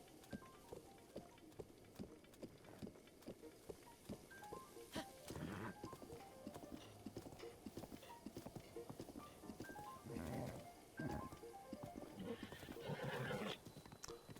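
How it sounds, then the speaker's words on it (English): A horse in the Breath of the Wild video game whinnies and snorts over steady clip-clop hoofbeats, loud and close, with game music and effects running underneath. "You almost ran off the cliff, Mr. Horse"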